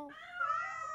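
A cartoon cat lets out a single drawn-out, high meow, clear and close, lasting about a second.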